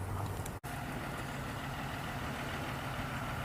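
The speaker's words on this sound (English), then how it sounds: "The FedEx truck up there, I don't know how loud that is." A FedEx delivery truck idles nearby outdoors, its engine giving a steady low rumble and broadband drone throughout, broken only by a brief dropout.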